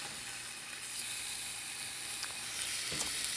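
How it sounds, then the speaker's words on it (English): Tuna steaks sear rare in a hot pan, giving a close, continuous sizzle and hiss that swells slightly midway, with a few sharper crackles near the end and no voices over it. "I'm just gonna sear these rare. One side is already nice and seared. Go ahead and flip it over."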